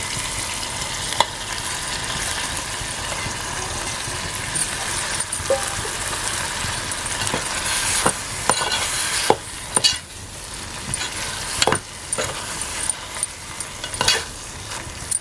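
Wild mushrooms sizzle and crackle steadily in hot oil in a pot, with occasional clinks and scrapes of stirring.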